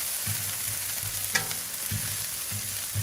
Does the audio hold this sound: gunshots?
no